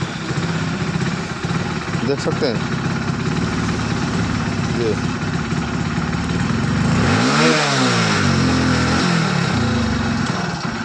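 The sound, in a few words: Hero HF Deluxe BS6 motorcycle kick-started and revving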